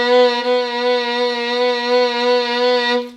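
A violin holds one sustained bowed note with vibrato, rich in overtones and gently wavering, played solo and close for about three seconds.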